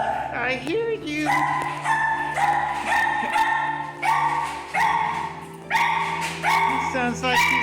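A dog barks repeatedly outdoors in loud, evenly spaced bursts with yips between, fairly close, while another dog can be heard in the background.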